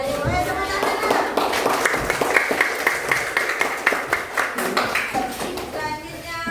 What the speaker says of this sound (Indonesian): Tepuk tangan, nak.